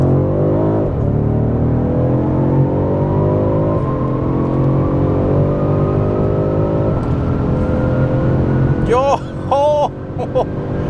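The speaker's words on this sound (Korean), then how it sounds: "변속기는 좌측으로 밀어서 S 모드 상태에서 가속 페달만 전개해서 진행을 해 보도록 하겠습니다." A BMW M550i xDrive with M Performance parts, in Sport Plus with the transmission in S mode, pulls hard at full throttle, its engine note rising steadily with brief dips at gear changes, loud and sustained, with excited voices near the end.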